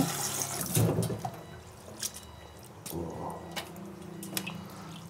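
Low-carb instant pancit canton noodles being rinsed with water: brief splashes, drips and wet squishing, close by, in short uneven bursts.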